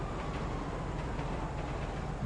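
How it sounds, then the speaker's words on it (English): A train rumbles past in GTA, a low continuous rolling drone with faint rhythmic clatter, steady and moderately quiet throughout. "Just because I'm sure you can hear that train."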